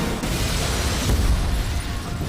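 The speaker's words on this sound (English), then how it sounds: "And explosions everywhere." A dense, rumbling roar of film explosion booms fills the clip continuously, loud and close with no talk.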